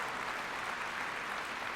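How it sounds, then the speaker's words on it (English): An audience at a political summit applauds, giving a dense, even wash of clapping that stays steady and fairly distant for a moment. No voice is heard over it. "They deserve a round of applause for that."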